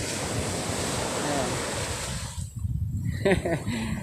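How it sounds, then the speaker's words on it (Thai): Wind gusting along a Thai beach by the sea, a broad steady rush of air and surf close to the microphone, roughening briefly near the end with a faint voice in the background. "บรรยากาศวันนี้เป็นขึ้นลม"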